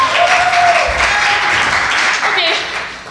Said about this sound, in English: Give a round of applause for Ann Nutpenny.